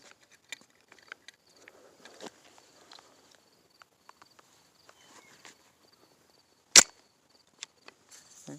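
Rossi Gallery .22LR rifle firing a .22 short round, a single sharp, fairly quiet crack near the end, set among faint handling clicks and light mechanical taps in an otherwise quiet space.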